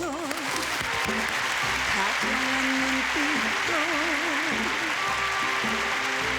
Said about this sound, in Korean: 우리 모두의 가슴 속으로부터 그분에게 힘찬 박수를 보내십시다